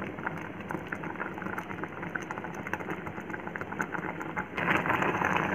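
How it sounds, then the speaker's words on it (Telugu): Ragi sangati, a Rayalaseema finger-millet dish, simmers in a covered pot with a steady bubbling, hissing boil that grows slightly louder near the end, and no one speaks. "ఒక 10 మినిట్స్ ఉడికించుకోవాలి బాగా మెత్తగా"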